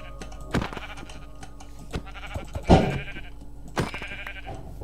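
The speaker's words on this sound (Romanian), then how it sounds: "Am coborât pentru că am auzit o oaie și că am și văzut-o." Sheep bleating in Minecraft, a few short, separate bleats spaced over several seconds amid soft game sounds.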